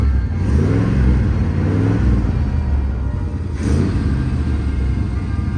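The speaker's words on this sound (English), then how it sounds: "Car runs really good." A 1984 Chevy El Camino engine idling and revving, a loud, close, deep rumble that rises and falls through a couple of throttle blips, with no voices.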